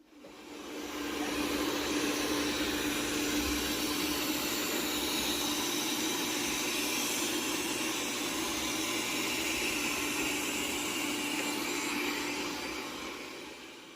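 An iLife A11 robot vacuum and mop runs with a steady, close whirring hum and broadband hiss that stays at an even level throughout, with no voices.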